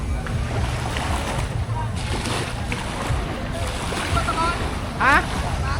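A motor boat engine drones steadily on the open sea near Boracay during a fishing festival. The drone runs under wind and waves, with splashes and a brief chirp-like sound near the end. Voices can be heard faintly at times.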